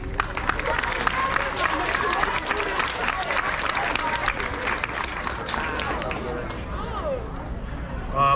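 Audience applause at a middle school grade 8 award ceremony, dense clapping blended with crowd chatter and voices, steady for several seconds before thinning out near the end.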